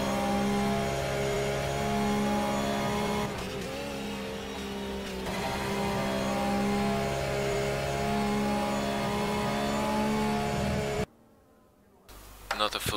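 A Porsche race car engine in a Le Mans racing video game, holding a steady high-pitched drone at top speed, loud and continuous before cutting out abruptly near the end.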